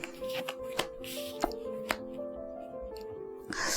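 Symbolon tarot cards drawn and handled during a reading: soft papery shuffles and several sharp card snaps and taps in close succession, with faint background music underneath.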